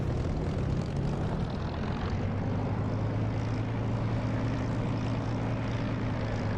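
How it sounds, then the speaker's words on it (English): Supermarine Spitfire piston engine in the DCS flight simulator, a steady loud propeller drone with a low harmonic hum that holds without a break. "the sound of the Spitfire you're hearing is actually from Echo 19"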